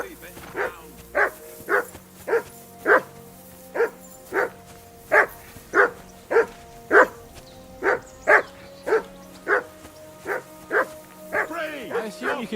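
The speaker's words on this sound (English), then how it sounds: "I assume you can hear that damn dog of yours barking." A dog barks steadily in Kingdom Come Deliverance 2, about fifteen to twenty evenly spaced, loud barks over a faint ambient background, with a voice talking over part of it.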